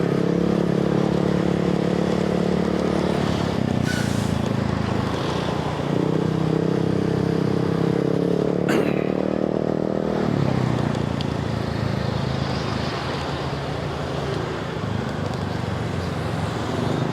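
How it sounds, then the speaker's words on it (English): A Honda Click 125 scooter engine drones steadily while riding, its pitch rising and falling as the throttle revs, with road and wind noise throughout. "the thing I don't like about this motorcycle is that it's really jerky"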